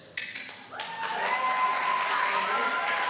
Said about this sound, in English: Too much applause for this great lineup.